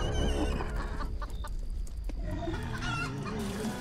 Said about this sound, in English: Oh, you can put two chickens in there at once.